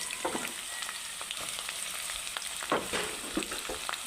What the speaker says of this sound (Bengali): এখন পেঁয়াজ কুচি দিয়ে দিলাম